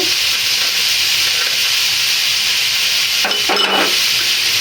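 Peas and cauliflower fry in a pan in a village kitchen, a steady loud sizzle filling the clip, with a brief burst of stirring or clatter near the end.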